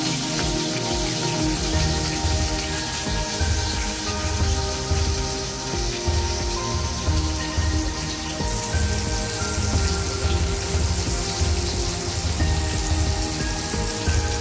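A steady, close sizzle and crackle from prawns frying in coconut oil in a pan, unbroken throughout without talking.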